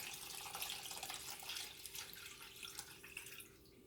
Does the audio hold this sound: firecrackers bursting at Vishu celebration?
no